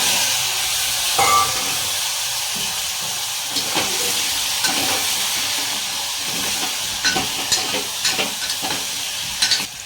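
Moringa drumsticks sizzle loudly in a pan of oil seasoned with ajwain, asafoetida and turmeric. A constant hiss runs throughout, broken by scattered scraping and clinking from stirring.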